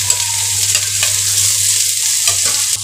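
Peas, onion and mashed potato frying in a pan, a loud continuous sizzle close up with a few light stirring scrapes and no voices.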